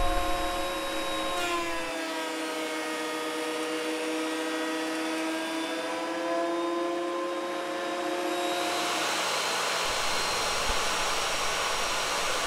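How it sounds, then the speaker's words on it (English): A planer feeds wooden boards, its loud, steady high-pitched motor whine running continuously. The pitch sags as the blades bite, and the sound turns rougher and noisier near the end as a board passes through. "Now it's just a matter of getting them all planed down."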